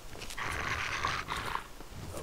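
Dogmeat, the canine companion in Fallout 3, lets out a low, rough growl that swells and breaks off briefly before resuming, fairly quiet and alone without speech.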